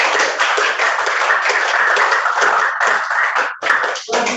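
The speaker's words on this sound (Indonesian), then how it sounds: "Kita beri tepuk tangan ya." A classroom audience claps steadily after a group presentation, dense continuous hand claps close by that thin out briefly near the end.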